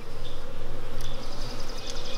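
Honeybees buzz steadily and loudly at a hive during a test of queen-cell cages, a dense continuous drone with no voices.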